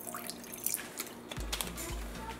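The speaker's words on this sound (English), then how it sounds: "So to my bowl I'm going to go in with some water." Water being poured into a bowl to make a sauce for chicken and broccoli: a few light drips and splashes at first, then a low, hollow, gurgling pour close by.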